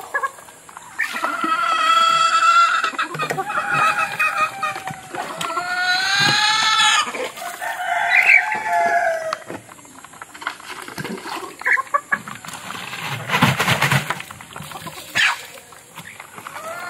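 Pet backyard chickens clucking and crowing close by, with drawn-out harmonic calls rising and falling in several bursts, then scattered scratchy rustling and a busy, noisy flurry near the end.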